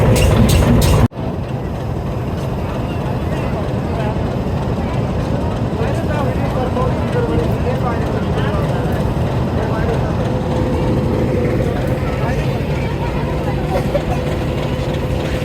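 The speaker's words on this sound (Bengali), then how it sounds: "গাইস, আরেকটা ট্রেন আসছে" A train pulling into a station on the Bogura–Santahar line, a loud steady rumble and rolling rattle of wagons with a horn-like tone near the end, voices in the background.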